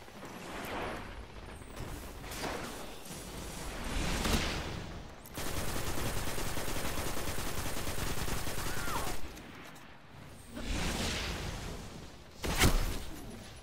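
Gunfire in a PvP video game, with a long sustained volley of shots in the middle and sharp blasts near the end, all loud and close.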